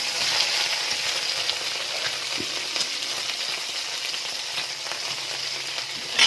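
Onion fries in chicken cooking juices, a steady close sizzle with light stirring clicks and small spatters, continuing unbroken throughout.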